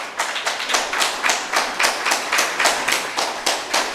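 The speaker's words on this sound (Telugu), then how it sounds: "పత్రిజీ కిచెన్ కట్టి క్లాప్ చేద్దాం" A group clapping together in a steady, rhythmic beat to launch Patriji Kitchen, about a dozen even claps over a few seconds, close and fairly loud with no talk.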